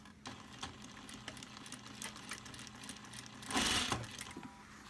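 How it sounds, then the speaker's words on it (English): Sewing machine reverse stitching a fabric mask, a faint, quick rhythmic mechanical clatter running steadily, with a brief louder burst partway through, nearby with no talk. "Again, we're reverse stitching."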